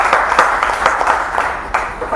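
A poetry event audience claps together, a dense crowd rattle of many hands that stays steady across the whole stretch, with small swells in intensity and no clear break.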